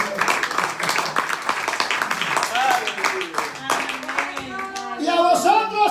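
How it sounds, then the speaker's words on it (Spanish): A church congregation claps during a Spanish-language sermon, with quick, uneven hand claps up close and voices calling out and singing over them. "Denle un aplauso a Jesucristo."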